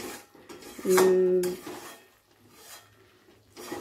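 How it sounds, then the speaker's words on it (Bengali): A utensil stirs and clinks against a pan of rohu fish masala curry, with one louder metallic scrape near the start and softer, quieter stirring afterward, close by and without talk. "এবারে সবগুলোকে একসাথে ভালো করে একটু মিশিয়ে দেব।"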